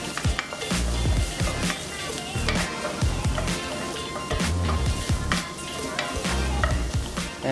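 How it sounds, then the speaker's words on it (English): Onion and jalapeno frying in a hot pan, a steady loud sizzle with frequent stirring scrapes and knocks of a utensil against the pan, no talk. "And just pan fry it for a bit until it's all nice and soft."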